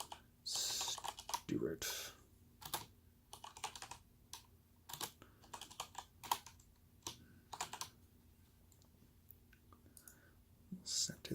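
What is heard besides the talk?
typing on a computer keyboard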